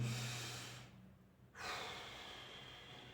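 Slow, close breathing: a long airy exhale fades out, a brief pause, then a fresh breath starts and continues softly.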